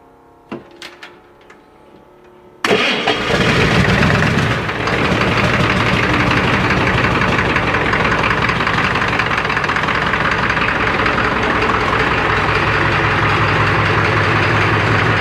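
A Ford 7.3 IDI diesel with a suspected stuck injector, turbocharged with a non-intercooled S366, fires up after a few faint clicks, then settles into a loud, steady, rough idle with a knocking clatter.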